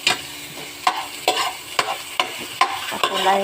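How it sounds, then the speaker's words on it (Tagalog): Lots of onions and garlic are stirred in a sizzling pan for adobong sitaw, with a steady fry and a repeated scrape of the utensil roughly every half second, close and with no one talking. "So haluin muna natin, papulayin"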